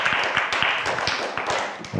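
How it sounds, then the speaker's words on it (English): Scattered hand claps from a small audience patter irregularly, fairly close, thinning out toward the end. "Please give her a round of applause."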